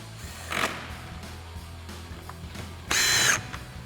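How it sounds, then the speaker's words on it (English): Power driver or ratchet briefly spinning a 10mm socket on the upper headlight bolts of a 2021-2026 Ford Bronco, two short whirring bursts close up with quiet handling between them. "we've got our 10mm socket for our 2 10mm bolts up top"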